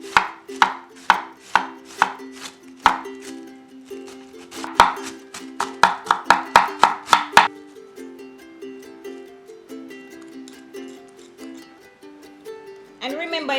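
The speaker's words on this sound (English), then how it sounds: "With our cabbage here, you want to chop them small enough." Knife chopping cabbage finely on a board: rapid bursts of sharp, close chops in quick runs, pausing between flurries, with a final cluster of cuts at the end; no talking.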